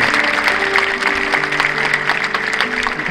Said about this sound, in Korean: 우리 뜨겁게 우리 박수해 주시기 바랍니다